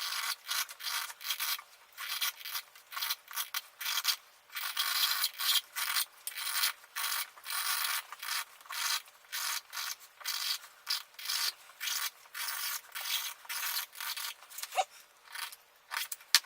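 A fresh blade drawn through leather in a single cutting pass, giving close, dry rasping and scraping strokes in quick irregular bursts, with no talking.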